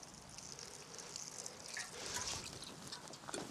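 Water poured onto a newly planted plant in soil, a soft, quiet trickling and splashing over a few seconds.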